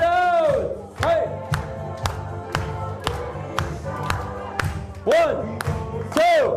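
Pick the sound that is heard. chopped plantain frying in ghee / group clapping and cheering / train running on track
group clapping and cheering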